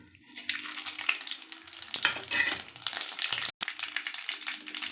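Mustard seeds and dal tossed into about three spoons of hot oil crackle and sputter, a soft broadband frying hiss that swells after the first couple of seconds and continues steadily with no talking.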